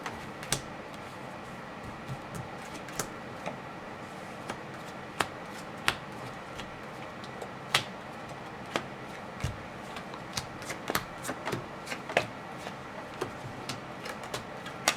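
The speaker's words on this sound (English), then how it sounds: "I'm going to lay out the cards in a sort of" Playing cards are laid out one by one on a table for a magic trick, making quiet, crisp taps and flicks at an irregular, unhurried pace against a hushed room.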